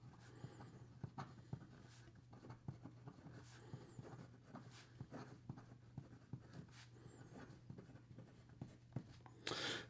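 A Delta DV fountain pen writing a sample on paper, with a steady run of faint, close scratchy nib strokes and small taps at an irregular rhythm, over a low background hum.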